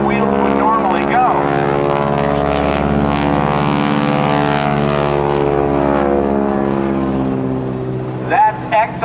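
A propeller airplane flies by at an airshow with its landing gear doors open, a loud droning engine passing steadily overhead with a Doppler shift, while an announcer talks over it.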